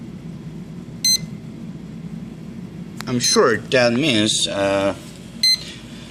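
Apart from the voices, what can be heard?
electronic speed controller beeping on RC helicopter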